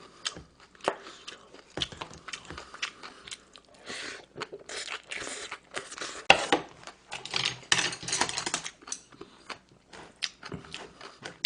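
Someone eats vegetable bibimbap with a spoon, chewing and crunching close to the mic in irregular bursts, with spoon clinks and occasional quiet speech.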